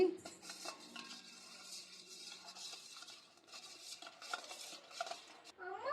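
Dry yeast is mixed into a pizza dough mixture with a spoon, producing soft, irregular scraping and clinking against the bowl, close but quiet, with no clear talking.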